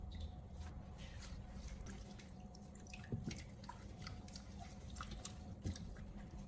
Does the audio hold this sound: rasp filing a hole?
no